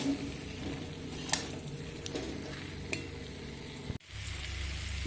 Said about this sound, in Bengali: এবার দিয়ে দেব ভেজে রাখা আলু দিয়ে আরও এক থেকে দু মিনিট মতো একটু নাড়াচাড়া করে নেব